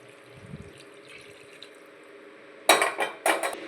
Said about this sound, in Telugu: ఇప్పుడు వాటర్ అనేది మనం వేసుకోవాలి.